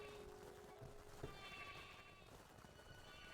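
Sheep bleat faintly in the video game Craftopia, a few short calls sitting low under game music and a steady background hum.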